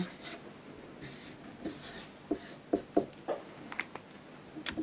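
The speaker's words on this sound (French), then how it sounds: "laissez-moi vous dessiner quelque chose" A pen sketches a compass rose on paper: close, scratchy strokes in short bursts, punctuated by sharper taps and dots, with no voices.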